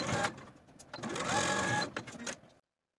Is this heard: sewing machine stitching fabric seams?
yes